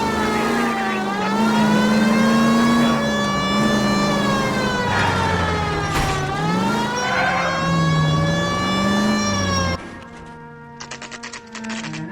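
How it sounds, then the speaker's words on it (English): In the L.A. Noire video game, a car pulls out of a driveway and speeds off with a loud, wavering engine whine that rises and falls in pitch. It then cuts to a quieter, fluttering rattle near the end. "That's the car, Cole. Just pulling out of the drive"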